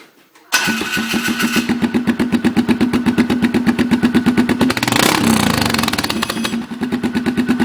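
A Polaris Sportsman ATV with a modified factory exhaust starts up after a short silence and settles into a close, loud, rapid pulsing idle, with a brief rev midway before the steady thumping returns.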